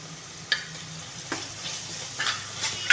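Ginger garlic paste frying in a pan for traditional Ramadan nonbu kanji, with soft sizzling under three or four distinct scraping stirs of a spoon against the pan, near and without talking.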